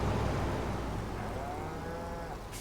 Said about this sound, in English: I guess the cows are gonna starve to death